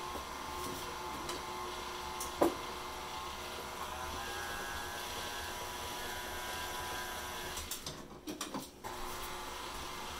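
An electric mixer churns ginger snap cookie dough in a home kitchen, giving a steady, close whirring drone that runs unbroken before wavering and dipping briefly near the end.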